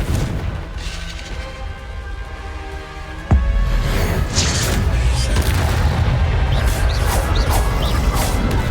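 A Confringo spell explodes in Hogwarts Legacy, with one sudden loud blast followed by a heavy, rumbling tail and crackling debris that lingers for several seconds.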